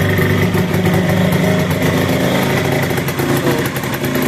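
A small engine fitted with a Comet Duster 94c centrifugal clutch runs loud and close after being pull-started, holding a steady buzzing idle with slight fluctuations throughout.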